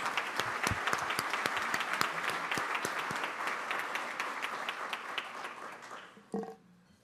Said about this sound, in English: Would you please give all a big round of applause?